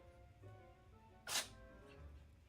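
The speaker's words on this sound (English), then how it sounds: "Did you hear him sneeze?" A single short, sharp sneeze from a cat bursts out once, brief and fairly close, against a quiet room background.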